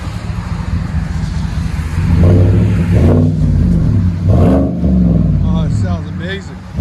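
A Chevy Silverado with a 5.3L engine and a Flowmaster Flow FX exhaust revs several times in loud deep swells close by, with talk in between.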